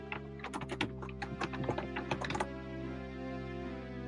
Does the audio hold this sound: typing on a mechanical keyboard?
yes